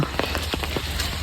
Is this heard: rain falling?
yes